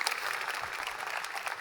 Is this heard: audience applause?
yes